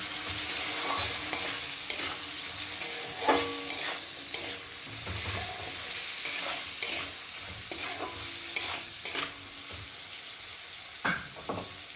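Cabbage curry being stir-fried with chili powder in a pan, a steady low sizzle broken by repeated scraping and stirring strokes of the spoon against the pan, close and with no voices.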